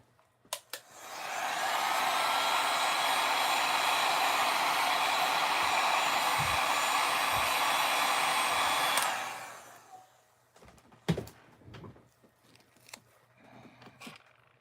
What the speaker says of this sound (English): I'm going to try the heat gun again.